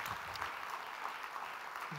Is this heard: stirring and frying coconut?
no